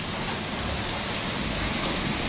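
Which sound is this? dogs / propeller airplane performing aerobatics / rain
rain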